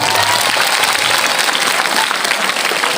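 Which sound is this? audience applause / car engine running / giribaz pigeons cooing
audience applause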